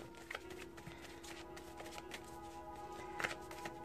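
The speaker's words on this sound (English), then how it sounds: "I'm going to give it a good shuffle because I just wanted one card." Soft, steady shuffling of tarot cards close up, with light riffling taps over a faint constant hum.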